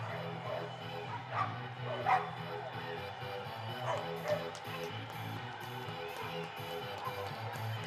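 Several dogs bark and yip at an all-star agility show, short excited barks rising over a murmuring crowd and voices in an indoor arena.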